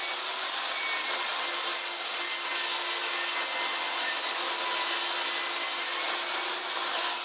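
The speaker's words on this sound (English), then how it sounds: "take this piece of wood and cut it into 2 framing strips" Pallet wood being sawn into framing strips for a crate, a steady, continuous high-pitched rasping cut running loud and close throughout with no pauses.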